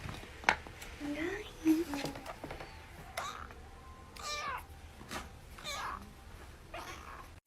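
A cat meows several times in short, fairly loud calls spread across the stretch, mixed with close household rustling and a person's voice speaking nearby.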